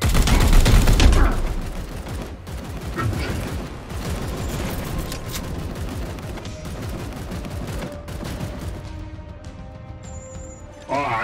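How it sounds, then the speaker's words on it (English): Rapid bursts of gunfire crackle loudly and continuously in Warhammer 40,000: Chaos Gate - Daemonhunters, with dense overlapping shots, a heavy opening blast and mechanical clatter throughout. "Firing now."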